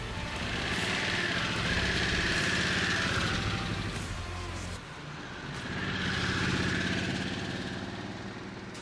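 A 2022 Harley-Davidson Sportster S motorcycle underway, its engine a steady loud drone that dips briefly mid-ride and then swells again.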